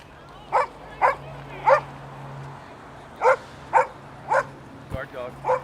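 A small guard dog at Waikiki Beach yips in sharp, high barks, three in quick succession, then a pause, then four more, heard fairly close over steady outdoor background.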